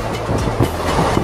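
A passenger train from Azimganj runs along its rails through morning countryside, a loud, steady rumble close by with a rhythmic wheel clatter.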